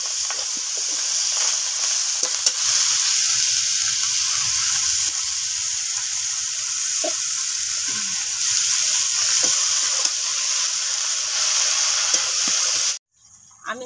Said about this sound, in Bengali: এরপরে দিয়ে দিব এখানে এই যে খামালু, আলু, লাল শাক